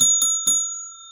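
A bright bicycle-style bell used as a sound effect rings three quick dings in a row, then its clear metallic tone decays and fades out alone.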